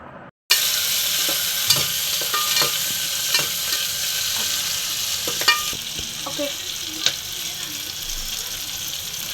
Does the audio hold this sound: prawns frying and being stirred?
yes